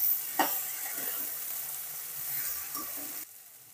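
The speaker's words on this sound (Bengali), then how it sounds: "দিয়ে সমস্ত সবজিটাকে সুন্দর করে নেড়ে চেড়ে কষিয়ে নেব।" Mixed vegetables with ivy gourd and eggplant are stir-fried, a soft, steady sizzle with a couple of scraping stirs, cutting off abruptly near the end; no speech.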